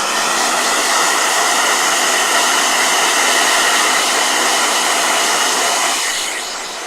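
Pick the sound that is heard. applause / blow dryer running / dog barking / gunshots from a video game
blow dryer running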